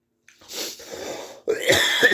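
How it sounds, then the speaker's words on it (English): Two close, harsh smoker's coughs, one after another with a short gap between them, heard alone without talking. "Excuse me, smoker cough."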